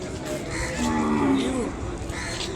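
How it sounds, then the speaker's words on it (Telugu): A calf moos once with a drawn-out, wavering call at an Ongole cattle market in Telangana, standing out over a steady bed of crowd and livestock noise. "దూడ ఇది"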